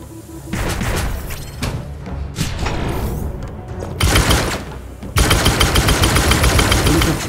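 Weapon fire in the sci-fi mech game Gunnhildr, dense rapid automatic bursts with heavy booming impacts, loud and continuous, intensifying into sustained fire toward the end.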